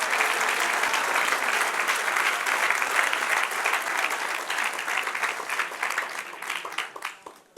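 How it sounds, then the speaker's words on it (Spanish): A church congregation breaks into sustained, dense applause that holds steady and then thins into scattered claps toward the end, loud and close. "Denle un aplauso al Señor por Tibo."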